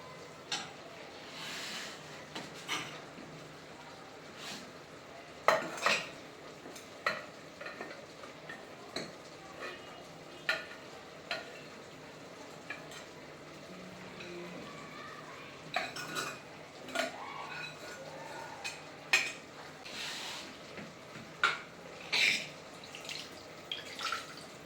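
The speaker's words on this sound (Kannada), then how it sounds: "ಇದನ್ನು ನಾನು ಮಿಕ್ಸಿ ಜಾರಿಗೆ ಹಾಕ್ಕೊತೀನಿ" A spoon scrapes and clinks against a pan and a mixer jar as cooked chickpea masala is transferred, with scattered metallic taps and clanks at close range over a quiet kitchen background.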